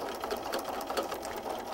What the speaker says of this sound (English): I'm going to stitch all the way around the shape and end back where I started.